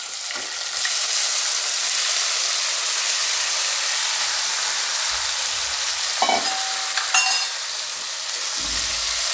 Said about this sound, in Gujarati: હવે આપણે એમાં ટમેટાં નાખી દેવું.